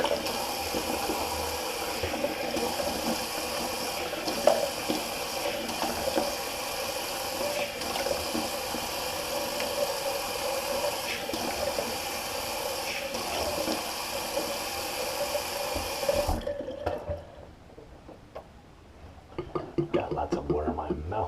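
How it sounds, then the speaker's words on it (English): Water runs steadily from a sink tap for a cold water rinse of the face, with a continuous splashing hiss and occasional splashes, then cuts off and leaves quieter handling sounds near the end. "I'm just going to do a quick cold water rinse on my face"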